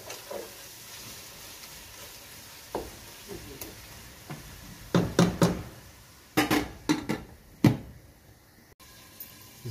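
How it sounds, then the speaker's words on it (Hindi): Masala spices fry in a pan for a mixed vegetable curry of potato, peas, carrot and cauliflower, with a soft sizzle under a run of sharp spoon scrapes and knocks against the pan that cluster more densely in the second half. "मसाले को भी हमने 3 से 4 मिनट के लिए फ्राई करना है"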